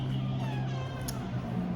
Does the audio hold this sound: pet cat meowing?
yes